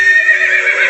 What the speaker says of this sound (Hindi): ये घोड़े तो आगे बढ़ ही नहीं पा रहे हैं